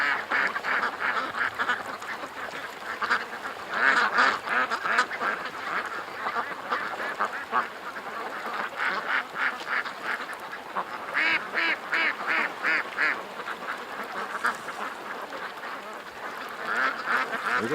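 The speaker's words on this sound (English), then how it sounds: "Look at the ducks, they're having a blast." Ducks on a lake quack continuously in overlapping, rhythmic bursts, a busy flock calling near and far over steady outdoor background noise.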